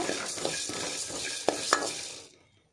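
Coriander seeds are dry-roasted in a pan for a spicy post-pregnancy curry, producing a steady close-up rustle and stirring scrape with two sharper clinks of the utensil before the sound fades out; no one talks.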